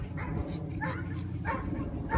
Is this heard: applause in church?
no